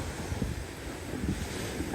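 Cold wind blows steadily across the microphone outdoors in bright sun, a continuous low rumbling buffet with slight gusty swells and no talking.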